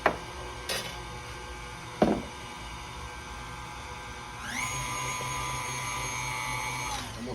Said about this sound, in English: I don't like to over mix my cake batter